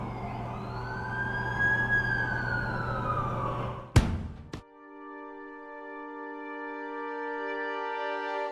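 A wailing ambulance siren in The Amazing Spider-Man 2 game rises and falls, then a sudden crash-like thud cuts it off, followed by a steady electronic hum.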